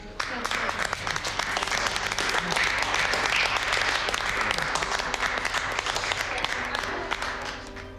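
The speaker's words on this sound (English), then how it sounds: "just like give him a round of applause" A room full of people gives a round of applause at a low-literacy support gathering, with steady, dense clapping lasting several seconds and voices talking over it.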